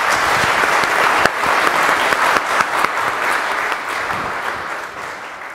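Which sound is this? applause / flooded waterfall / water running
applause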